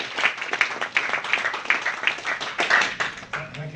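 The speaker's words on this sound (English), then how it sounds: "So a big round of applause for Peter." Audience applause at a council-hosted education event: dense, steady clapping from a crowd fills the whole stretch at an even level, with no talk over it.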